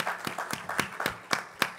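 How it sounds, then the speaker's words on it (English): Sparse applause with a few distinct, sharp claps standing out in an irregular rhythm over a soft background of clapping. "Let's get a round of applause for Ken Berger, please."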